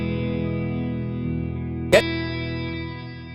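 Sustained guitar tones ring through an Eventide Blackhole reverb pedal, leaving a smooth, lingering wash, with a sharp brief click near the middle.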